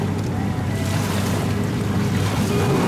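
Racing boat engines rev up at the start of a boat race, a steady loud mechanical drone mixed with rushing water and wind buffeting, continuous throughout with no voices.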